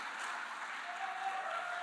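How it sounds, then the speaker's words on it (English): A crowd at an evening public political meeting gives a round of applause, a continuous wash of clapping at moderate volume that stays steady for the whole stretch, with no talking. "can I get another round of applause for this powerful young lady?"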